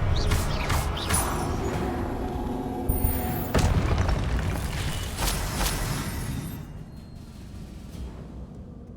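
Confringo blasting spell in the Hogwarts Legacy video game, a loud booming explosion burst with crashing impacts and rumble, fading into quieter game ambience toward the end.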